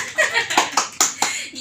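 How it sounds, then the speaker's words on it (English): A few scattered claps and some light laughter from a small group, sparse and uneven rather than full applause, with a voice mixed in. "Please clap for me now."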